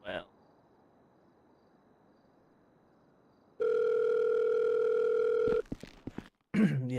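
A phone dial tone in a GTA V FiveM roleplay game, a steady loud hum that starts abruptly after near-silence, holds for about two seconds, then breaks off into clicks and a voice.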